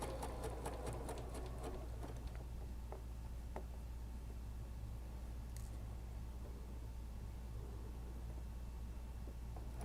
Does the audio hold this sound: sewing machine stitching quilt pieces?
yes